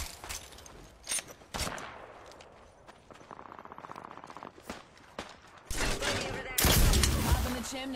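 Video game gunfire in rapid bursts and single shots, mixed with footsteps and other game effects, growing to a loud, dense volley near the end.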